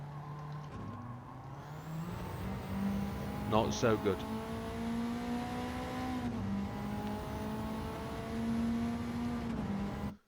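A Honda Civic racing car in Gran Turismo 7 at Tsukuba circuit holds a steady droning engine note that steps up through gears with a brief tyre squeal, while someone talks briefly over it.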